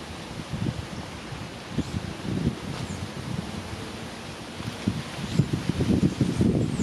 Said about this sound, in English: You get the natural song of the wind.